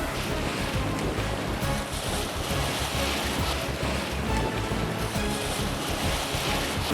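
Steady wind rush and breaking waves surround a sailing boat off the Isles of Scilly in about 15 knots of wind, a constant, dense roar with no pause throughout.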